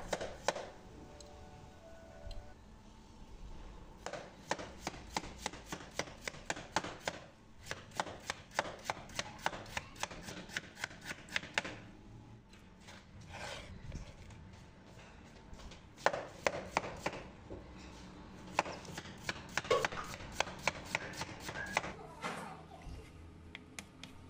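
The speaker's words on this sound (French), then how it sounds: "J'ai pris 2 grosses pommes de terre, je les ai épluchées, je les coupe en fines tranches" Two large peeled potatoes being sliced thin with a knife on a cutting board, giving rapid, steady runs of crisp chopping taps in bursts with brief pauses, close and clear, with no talk over them.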